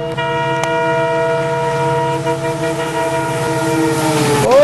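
A train pulling into a station in an Indian railway simulator game: a sustained tonal drone like a horn over rail rumble for several seconds, fairly loud and close, its pitch bending at the very end, with no voices.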